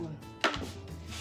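A knife chops through peppers on a cutting board with one sharp, close thunk of the blade, set against a quiet kitchen background.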